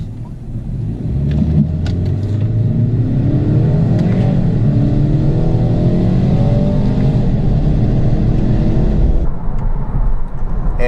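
A 2017 BMW 430i accelerates hard, its engine note climbing through rising revs in a loud, close sweep, then easing off abruptly near the end; no speech is heard.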